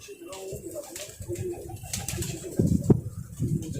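A female Kasuri pigeon coos up close in low, throaty rolling calls, with some soft rustling and background murmur.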